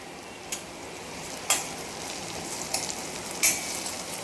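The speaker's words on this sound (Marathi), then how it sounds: "ते बघा, गवार चांगली तेलामध्ये अशी चटचटीत भाजत आहे" Roasted cluster beans fry in oil with onion and tomato, giving a steady crackling sizzle broken by four sharp spatula scrapes against the pan.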